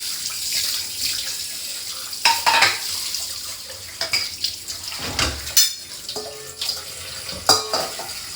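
Dishes being washed under a running kitchen tap, with flowing water, clinking plates and cutlery, and sharp clatters of pots being handled close by; no speech.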